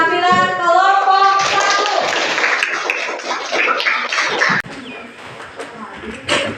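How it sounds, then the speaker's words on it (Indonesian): Classroom applause for a student group's presentation: a burst of many hands clapping, fairly close and loud, with voices and chatter mixed through it before it thins out. "tepuk tangan untuk penampilan kelompok"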